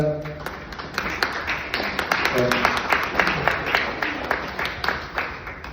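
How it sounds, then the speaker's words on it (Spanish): An audience at a medical education talk on breast cancer applauds with steady, moderately loud clapping, while a voice speaks briefly at the start and again partway through. "Merecido los aplausos."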